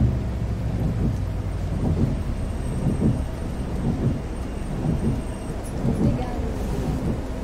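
Steady rain with low rumbling thunder in the Proton Bus Simulator game, a continuous wash of downpour with rolling deep rumbles throughout, fairly loud and without talk.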